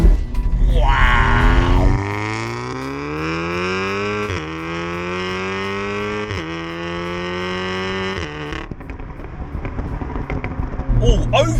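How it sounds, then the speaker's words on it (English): A tuned, methanol-injected 540 bhp Audi S3 revs hard through the gears, its engine note climbing in repeated sweeps, then lifts off into a burst of sharp exhaust pops and crackles on the overrun near the end. "Oh, it's got overrun."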